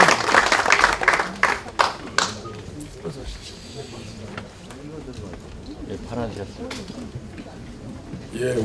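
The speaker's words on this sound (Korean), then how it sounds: "역시 뜨거운 박수로 맞이해 주시기 바랍니다." Warm applause welcoming a floor leader at a parliamentary workshop, loud claps at first that fade within about three seconds, followed by someone speaking over a quiet room.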